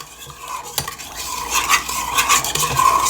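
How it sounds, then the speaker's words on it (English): Spoon stirring a yeast mixture in a bowl for dinner-roll dough, a continuous close scraping and swishing with a few light clinks of the spoon against the bowl. "I'm just gonna go ahead and stir this with a spoon"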